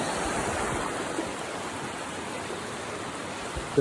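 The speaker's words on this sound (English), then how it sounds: "I'll show you this river real quick." A river on the Foothills Trail in South Carolina rushes steadily, a loud, continuous wash of flowing water that stays even from start to finish, with no voices over it.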